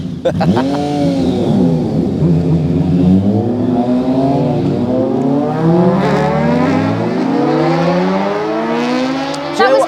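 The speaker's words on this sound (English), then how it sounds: "That is a racket. It's 4 bikes." Four motorbikes rev hard and roar past on a town road in Bedford, engines loud and close with rising and falling pitch as they sweep by in a continuous, overlapping racket lasting the whole stretch.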